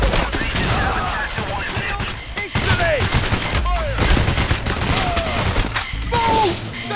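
Dense bursts of automatic gunfire and single shots crackle through a Payday: The Heist co-op firefight, loud and continuous, with players talking over the shooting.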